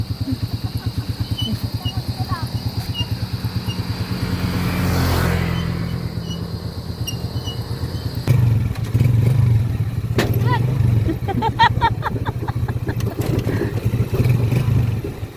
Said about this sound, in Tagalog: Hindi na makaakyat yung motor.